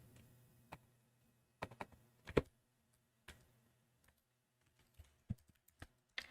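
Sparse keystrokes on a computer keyboard while Python code for an automated form filler is typed: quiet, scattered clicks with uneven gaps and a few sharper taps, close by in an otherwise still room.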